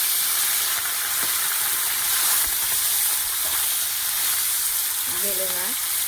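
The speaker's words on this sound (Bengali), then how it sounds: "মাছটা হালকা একটু ভেজে নেব।" Bele fish, with a few small chala fish, frying in very hot oil for a tomato curry: a steady, close sizzle and hiss with a brief voiced sound near the end.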